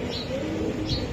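Racing pigeons coo softly in a brief low murmur, heard close with no one talking.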